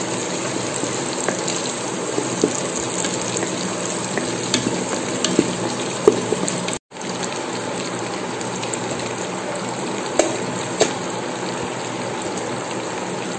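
Mint and spices sauté in a pan for chicken biryani, producing a continuous hissing sizzle with scattered crackles and stirring clicks and a brief dropout partway through.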